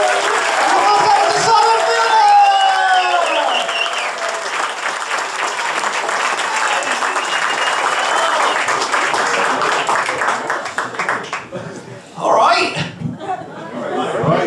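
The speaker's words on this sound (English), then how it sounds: "applause to welcome on Simon Fielder" A comedy-club audience at The Vic in Swindon claps and cheers loudly to welcome a comedian on stage, a dense sustained burst of applause with whoops and a voice over the top, then trailing off into scattered claps.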